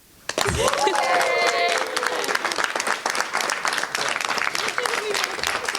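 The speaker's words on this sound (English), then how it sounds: "So give your pause a round of applause." Studio audience on a morning show bursting into applause, a sudden loud wash of clapping that carries on for several seconds, with voices talking and whooping over it.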